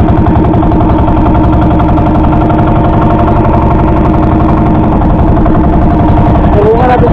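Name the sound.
fishing boat engine running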